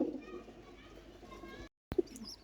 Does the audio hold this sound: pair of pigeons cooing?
yes